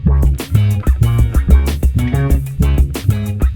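Synth tone shaped by an autofunk filter plays together with bass guitar in a busy, steady groove of repeated filtered notes, loud and upfront without any talking.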